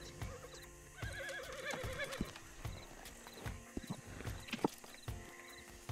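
A horse in the video game Red Dead Online whinnies in a rising, wavering call while hooves clip-clop steadily beneath it, with a few scattered knocks and thumps around.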